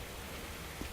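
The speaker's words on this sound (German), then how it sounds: "Oh, frische Luft und es regnet." Rain in the World War II shooter game Übersoldier, a dense steady hiss of falling rain, quiet and even throughout this short moment, with no voices.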